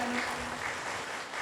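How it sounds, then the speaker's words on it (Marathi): Audience at a political rally in Chandrapur applauds a speaker, a dense, steady wash of clapping filling the whole moment at moderate loudness with no talk over it. "वा भाई वा, टाळ्या वाजल्या आणि हाती वरतं"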